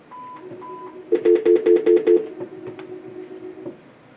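A telephone dialing into a conference call: two short tones, then a quick run of about eight touch-tone beeps close up, followed by fainter line clicks and tones.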